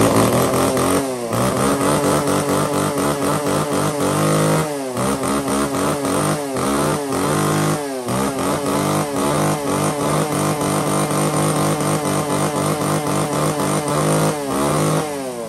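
A used Japanese-import chainsaw engine from a lot that includes STIHL, ECHO Kioritz, Komatsu and Shindaiwa saws runs loud and close. A steady two-stroke buzz wavers with brief throttle dips and revs throughout, and nobody talks over it.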